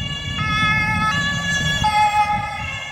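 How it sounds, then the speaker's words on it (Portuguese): A loud ambulance siren sounds in a Berlin street, its steady tones stepping between pitches, close by over low traffic rumble. "Que quebra um pouco esse silêncio, que são as sirenes, que elas são muito altas."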